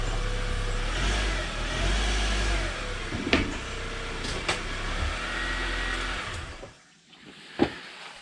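A 2005 Honda CRV running close by as it backs out, a steady engine hum with a few brief knocks before the sound drops away near the end.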